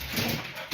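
A hyper pet dog with the zoomies gives a brief, close whimpering yelp over scrambling, rustling movement in a kitchen.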